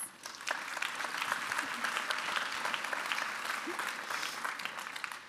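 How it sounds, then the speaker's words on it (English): An audience at a conference session applauds panelists, a dense, sustained round of clapping that starts sharply and stays steady and fairly loud to the end. "Please give a round of applause to our wonderful panelists."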